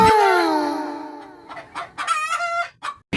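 Chickens cluck and squawk close by outdoors on a mountainside, with a rooster-like drawn-out call at the start followed by a rapid series of clucks.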